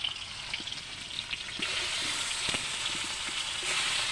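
Steady hissing sizzle of salted pangas fish frying in hot oil in a wok, with occasional light pops and clinks from stirring in the pan.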